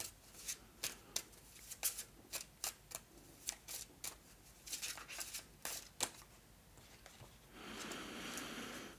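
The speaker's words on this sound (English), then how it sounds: "Just give these a cursory shuffle." A deck of game cards is shuffled during a solo tabletop session, giving a quick run of sharp riffling snaps followed by a longer soft, continuous flutter of cards near the end, close and clear with no talking.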